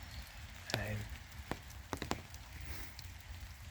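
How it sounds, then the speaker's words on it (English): Steady soft rain pattering close by in the city, with a few sharp drip-like taps and a brief murmur of voice. "it's raining."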